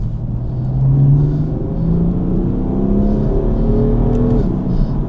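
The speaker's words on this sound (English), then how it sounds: "I'm just gonna plant the throttle and see what happens" A tuned 520 bhp BMW M4 engine revs hard under full throttle, its rising drone climbing steadily in pitch with a deep rumble throughout, close and loud.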